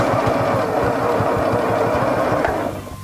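A sewing machine running steadily while stitching a quilt border, its rapid needle rhythm loud and close, slowing and stopping near the end.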